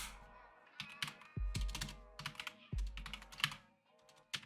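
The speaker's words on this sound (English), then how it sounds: "typing too fast here" Fast bursts of keystrokes clatter on a computer keyboard, close and fairly quiet, coming in quick clusters separated by short pauses and a few heavier thunks.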